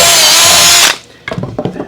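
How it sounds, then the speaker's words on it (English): A power drill bores through a wooden waste block while checking a hole for square during garden gate woodworking, a loud high whine for about a second before it stops, followed by a few light knocks of the wood. "I can put that drill bit through there and see how square it is."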